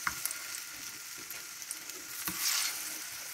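Thick plantain slices fry in hot oil, giving a soft, steady sizzle and crackle with small pops, faint and close, swelling slightly toward the end.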